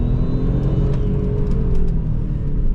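A 20-year-old turbocharged Audi S4 B5 powers out of a narrow corner, its engine a loud, steady droning rumble heard from inside the cabin without any talk.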